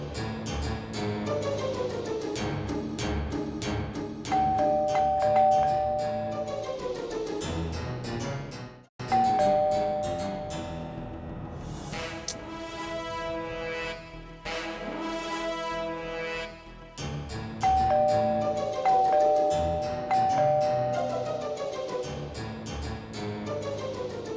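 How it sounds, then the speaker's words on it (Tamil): A doorbell chimes repeatedly, bright tones ringing out in bursts with short gaps between them, close and clear. "யாராவது வந்து காலிங் பெல் அடிச்சு தொல்லை பண்ணிட்டே இருக்காங்க"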